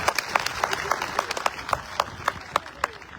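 Scattered applause from an audience at a public welcome for a nomadic tribes gathering in Sultanpur, with sharp claps rising and fading steadily over background crowd noise.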